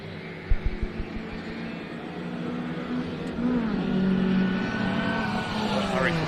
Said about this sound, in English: It's potentially a slight exhaust issue in that car would be my guess.